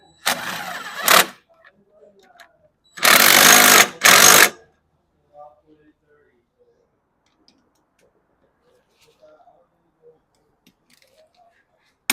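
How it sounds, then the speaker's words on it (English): Bolts going into an AE86 suspension during a Cusco install: two loud bursts from a power tool, a brief one and then a longer doubled run, followed by faint clinks of parts in a quiet garage. "let's just get these bottom bolts in here"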